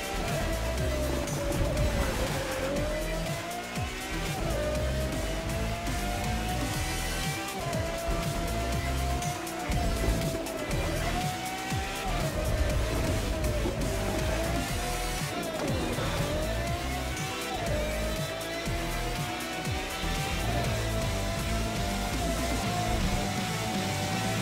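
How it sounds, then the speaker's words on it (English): Several modern race cars in The Crew 2 roar continuously across an antique covered bridge in a Miami Surf and Turf Xtreme Series event, engines revving and shifting with tires squealing, loud and sustained throughout. "The most modern cars in the world thundering their way across an antique"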